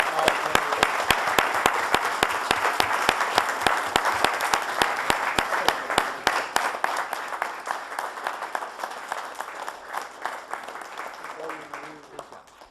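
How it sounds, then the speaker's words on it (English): Meeting audience at a mayor and aldermen session applauds, a steady wash of many hands clapping loudly for about eight seconds, then thinning out and fading as voices start talking over the end. "Let's give them a round of applause"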